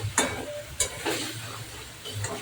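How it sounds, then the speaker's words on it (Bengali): Fried eggplant sautéed in a spice masala in a pan, giving a low sizzle broken by a few sharp spatula scrapes and taps on the pan, close and fairly loud. "ভালো করে একটু কষিয়ে নেব"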